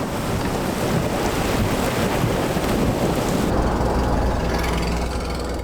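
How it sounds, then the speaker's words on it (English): Strong wind from an early season storm roars steadily across the microphone, a loud, constant rushing blast with no pauses. "This early season storm would produce intense lightning and strong winds."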